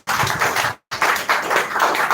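Audience members at a school speech competition clap for a speaker. The loud, close clapping comes in two bursts separated by a brief silent gap.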